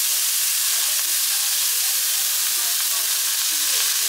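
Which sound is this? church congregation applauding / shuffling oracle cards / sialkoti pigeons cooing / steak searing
steak searing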